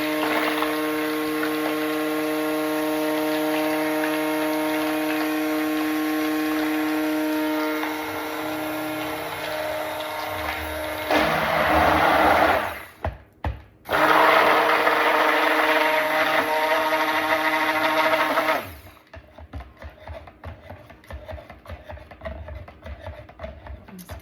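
A blender or stick mixer whirs steadily through turmeric and honey soap batter, loud and close, briefly cutting out and restarting before stopping, with no talk.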